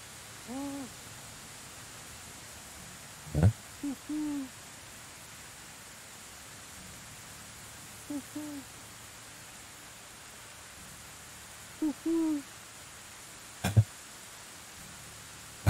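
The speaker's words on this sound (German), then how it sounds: "Er macht die ganzen Eulengeräusche hier, oder wie?" Owl hoots in the medieval survival game Medieval Dynasty, sounding in a few short, soft groups spaced across a quiet hissing ambience, with a couple of sharp knocks in between.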